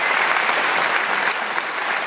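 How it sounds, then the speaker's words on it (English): A steady round of audience applause at a company event, dense clapping close and even for a couple of seconds with no talking. "So let's give him a round of applause."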